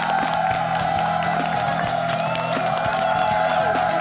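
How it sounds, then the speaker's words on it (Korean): A studio audience applauds and cheers to welcome actress Kim Soo-mi onto a KBS television stage. The steady crowd noise runs throughout, mixed with a sustained musical fanfare. "김수미 씨 모십니다. 박수 받으세요!"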